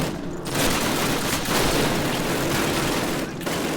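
Sustained automatic gunfire in the Call of Duty video game, a dense, continuous rattle of machine guns in a war-zone battle that fills the whole stretch at steady loudness.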